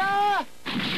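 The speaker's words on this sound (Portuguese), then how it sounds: "A bomba acerta em Kuwabara" A cartoon bomb blast from a 1998 Yu Yu Hakusho anime episode strikes a character: a loud descending whistle cuts to a brief hush, then a sharp, noisy explosion burst rings out, with no speech.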